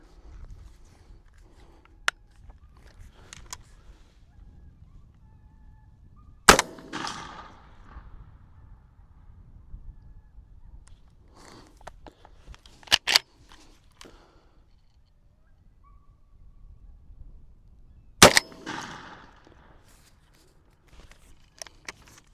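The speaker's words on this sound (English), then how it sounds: "we're gonna do the same 3 shots in a row, shooting 36 pellets at a target" A 12-gauge shotgun fires buckshot at a target 60 yards out: three sharp, loud blasts spaced several seconds apart, each with a short ringing tail over quiet outdoor background.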